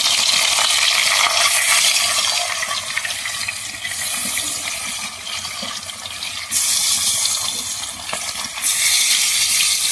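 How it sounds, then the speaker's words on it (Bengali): Silver carp pieces frying in hot oil in a Bengali home kitchen give a loud, continuous sizzle and crackle close by, surging in strength at a few points, with no talking. "গরম হয়ে গেছে তেলটা, মাছগুলো দিয়ে দেবো।"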